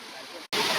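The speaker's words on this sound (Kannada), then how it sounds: "ಫುಲ್ ಡೇಂಜರ್ ನೀರು ಐತಿ." Water rushes over a waterfall in a green valley as a loud, continuous broadband roar, interrupted by a split-second gap before surging back even stronger.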